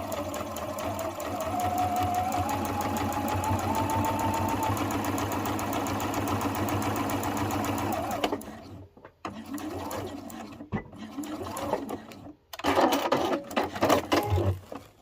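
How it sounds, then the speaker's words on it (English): A sewing machine stitches slowly along the edge of a flat fabric pouch, a rapid steady mechanical whirr for about eight seconds, then stops and starts in short bursts with gaps of near silence. "I'm just going to sew along slowly along this edge"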